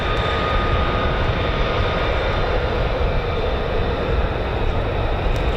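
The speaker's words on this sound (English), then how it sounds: "F-35As. Oh yeah, bring that noise, innit?" A US Air Force F-35A fighter jet roars with a loud, continuous broadband engine rumble and hiss at an RAF Lakenheath air base, steady and powerful throughout with no voices.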